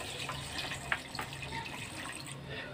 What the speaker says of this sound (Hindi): और अब हमें इसमें पानी ऐड कर देना है